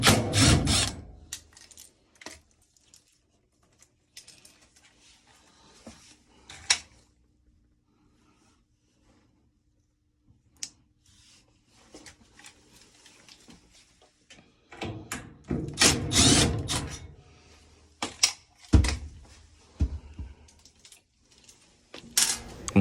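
Intermittent clicks, scrapes and rattles of screws being removed from a gas dryer door, with quiet gaps between bursts and a busier stretch of handling near the end.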